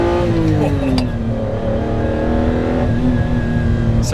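A Ferrari Testarossa 512 TR's engine pulls hard toward 7,000 RPM, a loud, steady mechanical roar with a sustained harmonic tone that climbs and settles, heard from inside the car with a voice talking over it.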